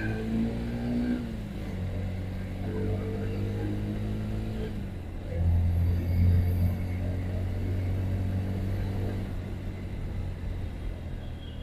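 A Yamaha FZ-X motorcycle engine hums steadily during a city ride, then its pitch climbs as the rider opens the throttle about halfway through. The rumble stays close, with a low tone sustained throughout.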